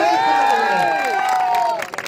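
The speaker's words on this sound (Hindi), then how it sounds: "सपोर्ट मिलता है तो एक हाथ जोरदार तालियों से" Crowd at a cricket grand final cheering and clapping, a dense, loud roar of voices and applause with whoops rising over it, holding steady for two seconds before tapering off.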